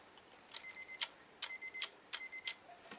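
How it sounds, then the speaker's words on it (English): Three bursts of electronic beeping from a Mamiya RZ67 Pro II medium-format camera signalling a lens error warning, each burst a rapid series of high, clean tones with short pauses between, close and clear. "So you hear, oh my god, it's beeping, what's it doing?"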